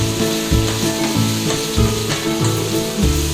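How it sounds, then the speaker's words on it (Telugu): Chana dal, urad dal, dried red chillies, curry leaves, cumin and mustard seeds sizzle loudly in hot oil for a tempering, with steady crackling frying and occasional stirring scrapes throughout. "అందులో నేను శనగపప్పు, మినపప్పు, ఎండుమిర్చి, కల్లెమాకు, ఇంకా జీలకర్ర ఆవాలు యాడ్ చేసుకున్నాను తాలింపు కోసం"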